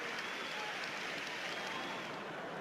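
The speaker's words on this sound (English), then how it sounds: "the last opportunity for a Goodison crowd to give a standing ovation to Ross Barkley in an Everton shirt" Everton supporters at Goodison Park give Ross Barkley a standing ovation, a dense, steady wash of applause and crowd noise holding at even loudness from start to finish.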